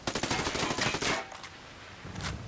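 An ACR assault rifle in Ghost Recon Wildlands fires a rapid full-auto burst of close, crisp shots for about a second, then a lone later shot rings out.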